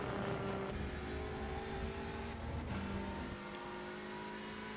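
TCR touring car at full throttle on the Circuit de Nevers Magny-Cours in a racing sim, a steady, buzzing engine drone with clear harmonic whine that steps in pitch at gear changes, heard from on board.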